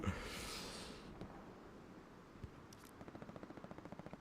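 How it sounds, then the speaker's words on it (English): An MG42 machine gun on Omaha Beach in Hell Let Loose fires a rapid, evenly pulsed burst. It is faint and distant, rising out of low battlefield rumble and scattered noises. "Mastodon steps right in front of the MG42."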